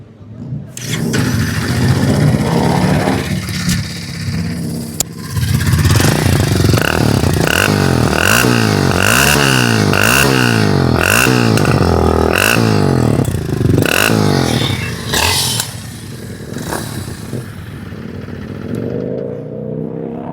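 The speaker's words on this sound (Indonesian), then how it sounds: "kira-kira motoris kepo nggak nih suara knalpot dari Kawasaki W230 yang pakai mesin 230 cc teman-teman" A Kawasaki W230 motorcycle with a 230 cc engine and a P-Shooter exhaust starts, then idles and revs in a loud, close, deep rumbling throb with repeated throttle blips that rise and fall before settling back to idle.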